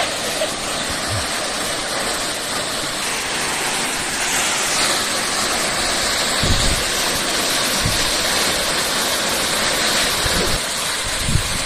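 Heramb waterfall in the Konkan, a continuous dense roar of falling water close by, with some wind buffeting the microphone and a few low thumps.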